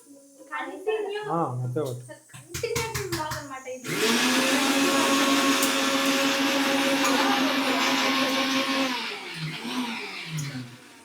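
A kitchen mixer grinder whirs loudly and steadily, grinding mint chutney for about five seconds before winding down, with brief voices and clatter before and after.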